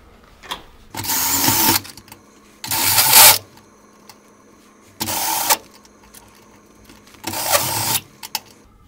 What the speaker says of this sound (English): So now I have to go with the step drill bit till it's the right size for our